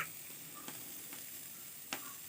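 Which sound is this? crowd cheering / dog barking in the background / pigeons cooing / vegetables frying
vegetables frying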